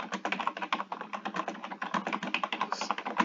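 Rapid, steady clicking of keys on a much-worn computer keyboard, close and continuous, with quick irregular taps throughout.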